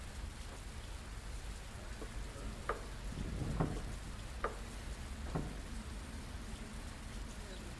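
Rain in the Fernbus Simulator driving game, a steady hiss of drops on a bus window and roof, close and continuous, with a few soft ticks and a low rumble swelling midway.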